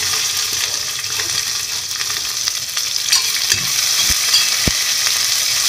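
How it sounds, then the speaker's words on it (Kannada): Onions and mixed vegetables fry in a pan with a steady, close sizzle, broken by a few sharp clicks and knocks of stirring toward the end. "ಇವಾಗ ಈರುಳ್ಳಿ ಹಾಕ್ಕೊಂಡು ಸ್ವಲ್ಪ ಫ್ರೈ ಮಾಡೋಣ."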